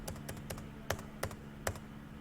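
Computer keyboard keys pressed while entering data in Tally ERP9 accounting software, a few quick light taps followed by three sharper spaced keystrokes, close and clear.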